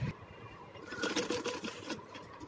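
A sewing machine stitching piping onto a net blouse: a steady, close motor whir with a rapid needle chatter that runs on without a break.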